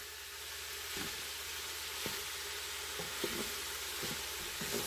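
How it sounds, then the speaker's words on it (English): Hamburger meat browns in a skillet, sizzling in a steady, soft frying hiss throughout, with faint scrapes and taps of stirring every second or so and no voices. "how to brown hamburger in a skillet"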